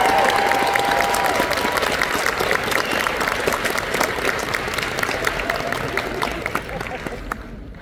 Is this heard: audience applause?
yes